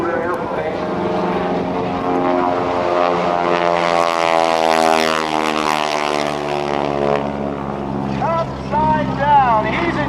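An older propeller-driven airplane flying at the 2014 NAS Oceana airshow, its engine droning loud and steady nearby, with rising and falling pitch as it passes; no voices.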